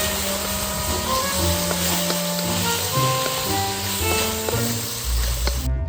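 Beef lok lak and onions sizzle in a hot pan for a Cambodian stir fry. The frying hiss runs continuously and fairly loud under steady background music, and a deeper rumble comes in near the end.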